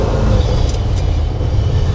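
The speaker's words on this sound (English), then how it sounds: "351 Cleveland sounds good." A 1977 Ford F150 Custom's 351 Cleveland V8 idles close by with a loud, steady low rumble and no voices.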